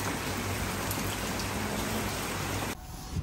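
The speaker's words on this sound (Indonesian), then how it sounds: "Tapi di luar masih hujan. Jadi semalam nggak berhenti sih hujannya ini." Steady rain falls outside overnight, a dense continuous hiss that fills the background, then drops away abruptly near the end, with no talking.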